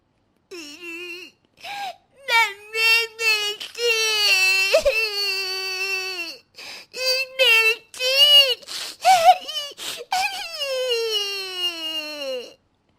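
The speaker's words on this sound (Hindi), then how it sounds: "बेटी की रोने की आवाज आती है" A young child cries close by in repeated wailing bursts, sobbing and whimpering between gasping pauses, with no other sounds around.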